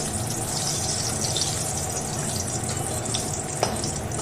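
Whole cardamom and cinnamon frying in hot oil left over from frying potatoes for chicken kasha, a dense continuous sizzle and crackle, close and steady, with one small pop near the end.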